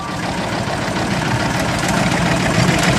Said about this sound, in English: Has an Ailsa Craig engine.